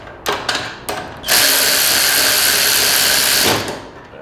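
Bolts on a Rascal GT mobility scooter's fork are tightened, first with a few short ratchet clicks, then a sustained loud whirring burst of about two seconds, close up with no talking.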